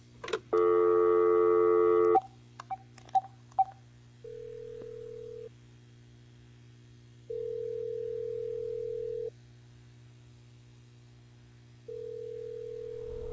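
Inside a horror video game, a phone call plays out: a steady dial tone, a few quick keypad beeps, then repeated long ringback tones separated by silent gaps, all close and clean.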